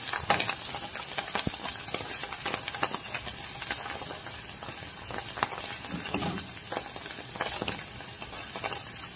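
Cheese sizzles and crackles frying in a hot pan, a dense frying hiss with scattered sharp pops and occasional stirring scrapes, no voices.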